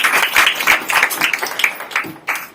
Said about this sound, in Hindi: विश्वास करते तो प्रभु के लिए जोर से ताली बजाइए।